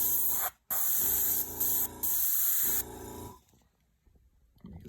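An airbrush sprays white paint through a flame stencil in close, loud hissing bursts, cut by brief pauses and changes in pressure, then tapering to quiet.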